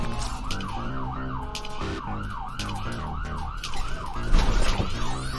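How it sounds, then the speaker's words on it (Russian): Cartoon ambulance siren wailing in a steady repeating up-and-down sweep, close and loud, with a low vehicle hum underneath and a brief noisy bump near the end. "Машина скорой помощи."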